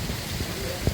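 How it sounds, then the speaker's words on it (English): Steady rain falls on a sunny day, a dense broadband patter that thickens slightly, with a brief low thump near the end. "It's raining a little harder."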